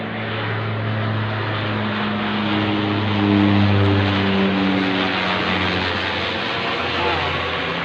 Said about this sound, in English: Patrol plane over my head